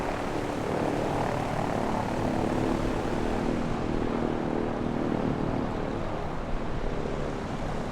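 A PZL-104 Wilga propeller plane in MS Flight Simulator 2024 drones with a steady, loud engine roar and propeller buzz throughout, sustained without any talk.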